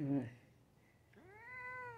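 A Siamese cat gives one drawn-out, rising meow, close and soft, just after a brief voice at the start.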